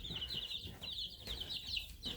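Gold Comet pullet chickens make faint, repeated high chirping calls in short runs over a low background rumble.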